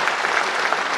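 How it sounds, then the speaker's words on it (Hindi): Dense audience applause at a Hindi comedy poetry gathering, many hands clapping steadily and loudly throughout, with no speech over it. "एक बार तालियां बजा दीजिए"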